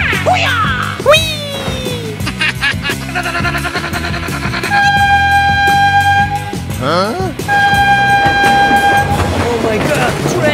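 Train thundering past with its horn sounding in a cartoonish cars video game, the horn giving long sustained blasts over the rumble of the wagons while animated sound effects and whoops mix in.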